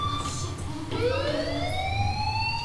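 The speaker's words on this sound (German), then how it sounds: "Hey, do you hear that fire alarm?" Fire alarm wailing in the Life Is Strange video game, a steady electronic siren tone that sweeps upward midway and keeps sounding over a dull background rumble.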